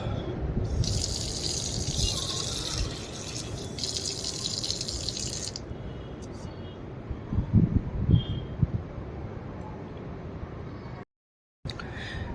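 Water running from a tap at the Dukh Nivaran Sahib baoli, a steady gushing flow with a bright splash early on, a few clunks midway, then a brief cutout near the end.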